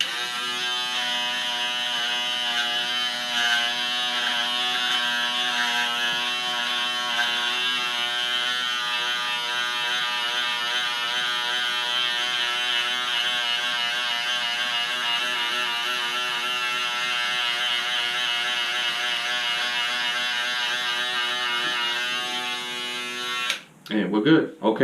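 An electric clipper trims a man's beard during a facial grooming session, giving off a loud, steady, unbroken buzz that runs close to the mic for about 23 seconds before cutting off abruptly.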